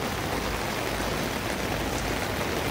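Heavy rain pours down in Mongkok near the KCR station in Hong Kong, a dense, steady hiss of water with no break, loud and close.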